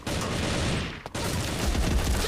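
Rapid gunfire rattles continuously in the Bullet Angel shooter game, a dense burst of shots that drops out for a split second before resuming at full loudness.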